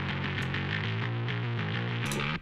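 Distorted electric guitar played through an amp for a video-game-style theme song, a steady driven chord riff with sustained harmonics and a short reverb tail as it stops, no voices.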